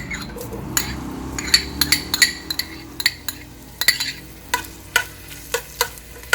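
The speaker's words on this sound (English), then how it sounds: "And we're going to let them brown a little bit in the frying pan." Diced bacon sizzles and fries in a pan while a utensil stirs and clinks against the metal in irregular taps.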